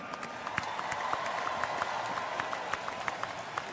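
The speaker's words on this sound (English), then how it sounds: "How about a round of applause for both teams tonight?" Crowd applause for both teams after the College Football Playoff semifinal at the Orange Bowl, Georgia versus Michigan, a steady wash of many hands with scattered crisp nearby claps over a broad stadium roar.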